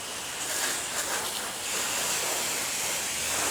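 A water hose sprays a steady, broad hiss while rinsing a car during a detailing job after old sealant removal, continuous and fairly close with no talking.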